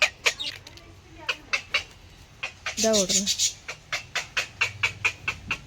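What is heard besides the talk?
chicks and chickens clucking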